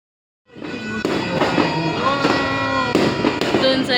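New Year's Eve fireworks crackle and pop continuously, with sharp bangs every half second or so and a whistling rise, loud and fairly close.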